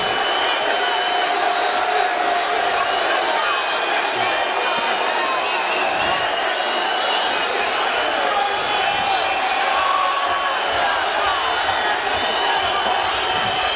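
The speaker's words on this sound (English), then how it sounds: "This crowd is on its feet." A boxing arena crowd roars on its feet during an aggressive opening exchange, a continuous loud wash of cheering and shouting with scattered thuds.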